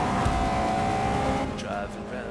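A race car engine in Forza Motorsport 6, a steady droning whine at speed with a shift in pitch near the end, while a voice talks over it.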